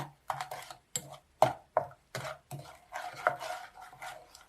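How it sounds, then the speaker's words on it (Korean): Strawberries and sugar get mashed and stirred in a pot, heard as a string of separate, close scraping and knocking strokes with short pauses between them, moderately loud and without talk. "딸기와 설탕을 넣고 끓여줄 거예요. 잘 으깨가며 조져줍니다. 타지 않게 잘 섞어줄 거예요."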